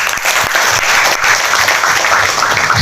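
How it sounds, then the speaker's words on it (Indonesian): Audience applause at the official opening of a cooperative in Padang Lawas, a dense, steady wash of clapping from a crowd that carries at an even level through the whole stretch without speech. "Untuk itu tepuk tangan dulu."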